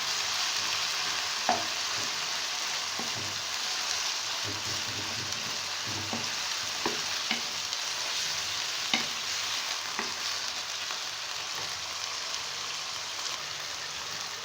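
Chicken frying in a pan for Chinese rice hisses in a steady, dense sizzle throughout, with occasional soft clatters of stirring breaking through the close, even frying sound.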